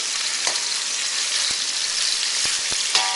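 Pork-and-shrimp-stuffed tofu frying in a pan gives a continuous close crackling sizzle, broken by a few faint spatula taps, with no talking.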